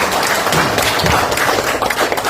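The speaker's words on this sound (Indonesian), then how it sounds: "Tepuk tangan buat Bung Syahrin dan teman-teman semua." Audience applause at an Indonesian political gathering, a dense steady wash of many hands clapping filling the whole stretch at high level, with no voices standing out.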